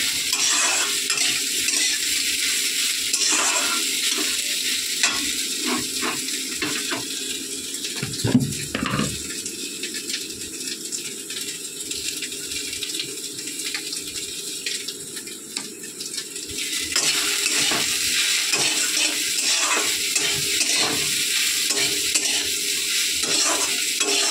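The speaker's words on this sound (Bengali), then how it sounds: "সোয়াবিনগুলো ভেজে নেব। এই দেখো কড়া ঘুরে যাচ্ছে, এক হাতে করছি।" Soybean chunks frying in a wok, a steady close sizzle with stirring scrapes throughout and a brief pause partway through.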